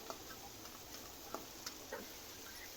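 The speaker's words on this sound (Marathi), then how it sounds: "दोन कांदे बारीक चिरून घेतलेले ते आपल्याला ह्या तेलामध्ये छान परतून घ्यायचे" Chopped onions fry in hot oil for a spicy dried shrimp chutney, giving a faint, steady hiss broken by scattered soft pops and crackles.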